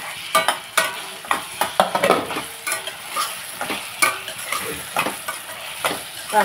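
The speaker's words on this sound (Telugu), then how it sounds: "కలిపేసుకుని ఇలాగా మగ్గుతాయి కదండి అరటికాయలు. ఇలాగా టమాటాలు మగ్గుతున్నాయి కదండి" Raw banana and tomato pieces cook in a pan, with a steady sizzle under repeated scraping stirs that land in an irregular rhythm, close and fairly loud.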